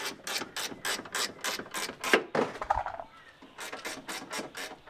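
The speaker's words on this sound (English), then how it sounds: "So we're going to loosen this bolt here off." Ratchet loosening a bolt under the bonnet of a next-gen Ford Ranger: a close, rapid series of sharp mechanical clicks in even bursts, pausing briefly midway before the ratcheting resumes.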